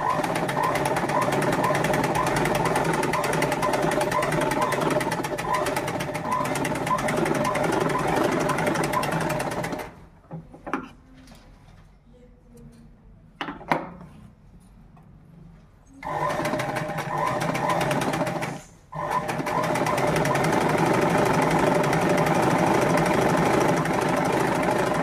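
An electric sewing machine stitches a uniform shirt, running in a loud steady whir up close, stopping for several seconds with faint handling noises, then starting up again.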